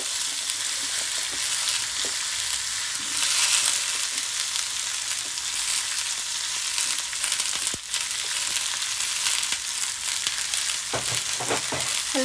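Cauliflower fries lightly in hot oil over a ground spice paste, a steady, loud, dense sizzle running throughout with a few soft stirring knocks near the end.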